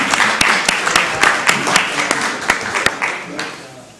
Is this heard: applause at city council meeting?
yes